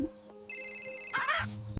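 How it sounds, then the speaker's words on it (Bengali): A cartoon mobile phone ringtone chimes in short electronic melodic tones, fairly faint and brief, with a small rustle near the end. "হঠাৎ ফোনের রিংটোন বেজে উঠল"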